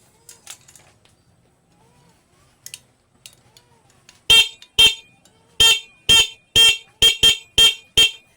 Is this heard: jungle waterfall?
no